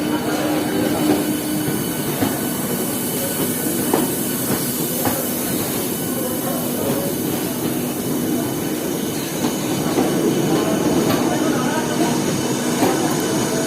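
West Bengal's first AC local train, running the Sealdah–Ranaghat route, sounds as a loud, continuous onboard rumble with steady wheel clatter and faint squeals throughout.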